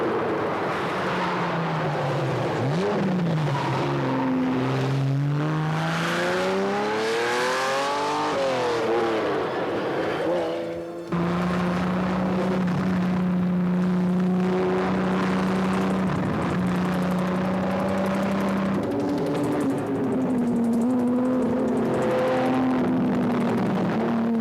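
A Koenig-tuned Ferrari Testarossa sports car on wide 345/35 tires drives hard, its engine note loud and continuous, rising and falling through gear changes and revving up before settling into a steady high drone.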